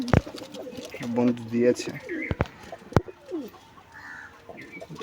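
Pet pigeons, including a newly brought pair, coo softly in a home loft in the evening, heard as low, throaty burbling calls nearby with sharp clicks and wing flutters, while someone talks.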